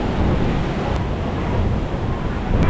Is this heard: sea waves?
yes